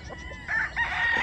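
Young chickens (pullets) on a poultry farm, clucking and crowing together in a short burst with no talk, with several overlapping calls that grow louder partway through.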